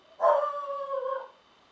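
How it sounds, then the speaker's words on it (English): A dog lets out a loud, close howling bark that starts sharply and stretches into one wavering cry for just over a second before fading. It stands alone, with no talking. "sorry about the dog, he's going crazy"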